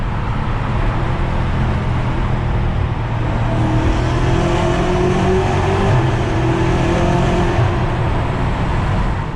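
A tuned 2020 BMW M5 F90 with a JB4 tune accelerating, a loud continuous engine roar with rising and shifting tones through the middle, heard from inside or close by with no voices.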